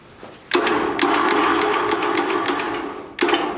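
Winch on a custom winch bumper of a Jeep Cherokee spooling in its cable, a steady mechanical whir with a rapid rattling pulse that starts abruptly, runs about three seconds, then stops and starts again.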